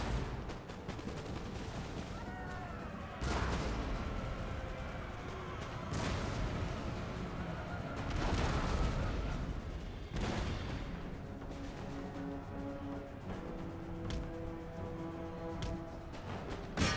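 Artillery guns firing in Empire: Total War, a series of heavy booms spaced every couple of seconds over a continuous battle din of music and crowd noise.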